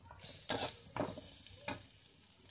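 Poha (flattened rice) tipped into a hot pan and stirred: a few crisp scraping strokes and soft rustles over a steady faint sizzle, close up, with no talking.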